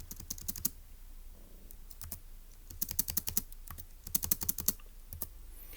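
Bursts of quick, crisp keystrokes on a computer keyboard while a puzzle answer is entered, clustered in short runs with pauses between, close and without talk.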